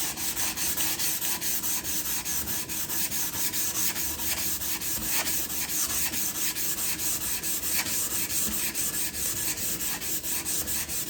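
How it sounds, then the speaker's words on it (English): Sandpaper of 120 grit rubbed over a wooden axe handle in fast, even back-and-forth strokes, a steady close rasping that never pauses, with no talk. "So we're slowly moving up to finer and finer sandpaper because we're trying to get a"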